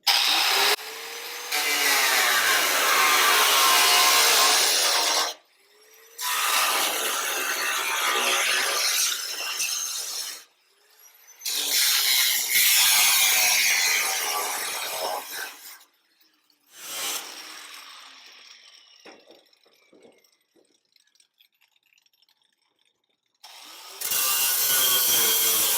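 An abrasive cutting disc sinks deep into a flange on a COE truck cab during a headlight swap, grinding loudly in four long bursts separated by brief pauses, with a quieter trailing cut before the disc bites in again.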